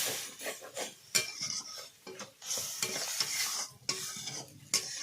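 A spoon stirs spice paste with turmeric and a little water as it fries in a pan for a village-style chicken dish, with rhythmic scraping, clinks against the metal and a steady sizzle, close up with no talking.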